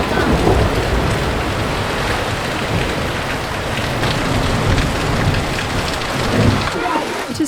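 Heavy rainy-season rain pours down in a dense, continuous roar on surfaces, loud and close with no breaks, and faint voices are buried beneath it.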